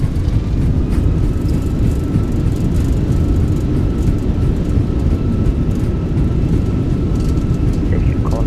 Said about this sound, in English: Retard. Nose down gently. Reversers are out. Decelerating.